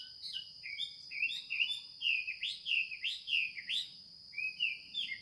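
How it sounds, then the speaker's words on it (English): Birds chirp close by in a rapid series of bright tweets and trills, with a high insect-like whine humming steadily underneath, on the moat path around a Crusader castle at sunset. "The birds. So lovely."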